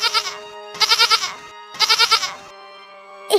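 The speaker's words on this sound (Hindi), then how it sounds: "अचानक मेरे मुंह से बकरे की आवाज आने लगी" A goat bleats loudly three times in a cartoon story, each call a rapid quavering burst about half a second long, with even pauses between them and no speech.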